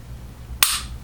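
A Walther P99 pistol is dry-fired, giving one crisp, sharp trigger click up close against a low room hum, with nothing else around it.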